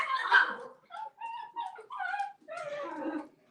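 Dogs whimper and whine in a string of short, high, tremulous cries, fairly faint and close, with no talk over them.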